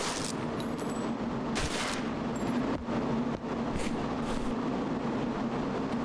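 Gunfire in a hardcore realistic shooter video game: several sharp shots and brief bursts crack over a constant rumbling background, fairly loud, with no talk.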